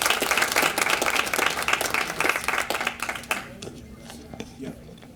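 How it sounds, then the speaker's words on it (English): An audience at a Truckee community morning gathering applauds, dense loud clapping for about three seconds that tapers off into a few scattered claps, with a voice speaking as it fades. "let's give a big round of applause to Maddie, Patti, Michaela, and Kat for feeding Truckee"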